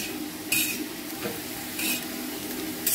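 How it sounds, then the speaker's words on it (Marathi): Green chillies roast on an iron griddle with a soft continuous sizzle, broken by a few brief scraping clinks of a utensil against the hot metal. "तर मी आता ह्या मिरच्या भाजून घेणार आणि लोखंडाच्या तव्यावर बनवायला लागले मी"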